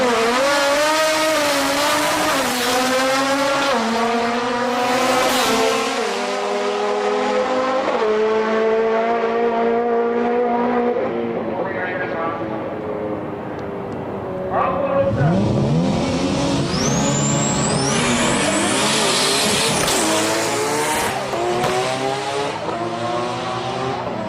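A Blitz RX-7 race car at a drag event at Sendai Highland roars loudly through rising and falling revs and gear changes, followed by a screech of tires and another burst of engine noise.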